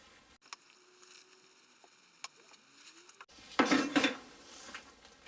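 A stir stick whirls through a steel wool and vinegar solution in a container, giving faint clinks and scrapes, then a louder burst of clattering, splashy stirring near the end, with no voices.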